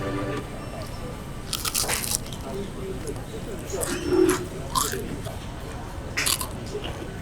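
Crunchy bites into crispy, slightly oily fried chicken from a Singapore chicken rice meal, a few sharp close crunches spread across the moment with a faint dove coo in the background.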